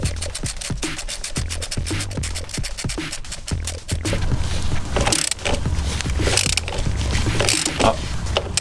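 A Citroën C6 engine is lowered during removal in a workshop, with dense metallic clanking, scraping and creaking close by and sharp knocks scattered throughout, with no talking.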